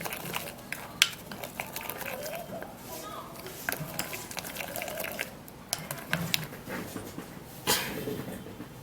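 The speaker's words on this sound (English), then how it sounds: "Now we're going to be stirring this." A spoon scrapes and clinks in a bowl as a toothpaste mixture is stirred, a steady, close run of soft scraping and light tapping.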